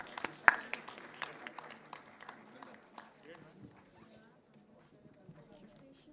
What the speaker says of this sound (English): Audience, let's give them a big round of applause as they come up on the stage